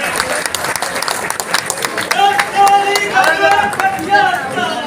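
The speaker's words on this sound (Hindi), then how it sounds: "आदरणीय भुजबल साहब का तालियां बजाकर स्वागत कीजिए" A crowd at an NCP party foundation-day event claps to welcome the senior leader Chhagan Bhujbal, with loud, busy applause mixed with crowd noise while a voice carries over the top.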